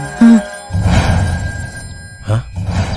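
A telephone rings in a Hindi-dubbed action film scene: bright, repeated electronic tones over a low, dense background.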